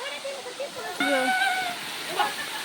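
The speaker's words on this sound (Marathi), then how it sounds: "बघा धबधबा" A constant rush of falling water from a waterfall fills the background while voices talk loudly over it, nearby and animated.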